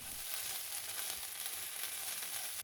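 Onion frying in a pan for a paneer and sweet potato curry, a steady close sizzle that holds without a break and cuts off at the end.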